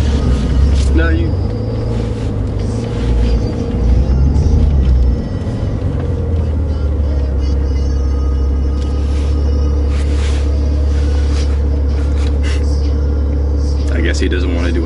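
A Maserati Ghibli S driven on a track, heard from inside as a loud continuous low engine drone and road rumble throughout, with people talking over it.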